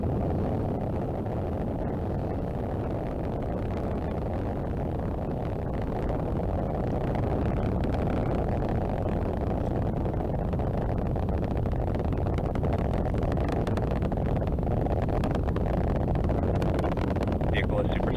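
A SpaceX Falcon 9 rocket carrying the Sentinel-6 Michael Freilich satellite roars steadily in flight, a dense continuous low rumble filling the whole stretch at constant loudness, with a voice calling out flight status over it.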